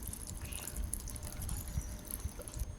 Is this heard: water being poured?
yes